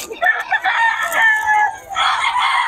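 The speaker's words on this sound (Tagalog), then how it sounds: "Murang-mura mga manok ni Boss Joey, mga idol" Roosters being sold at a market in Bocaue crow loudly and close by, with two or three overlapping drawn-out crows and some clucking, and no clear talk over them.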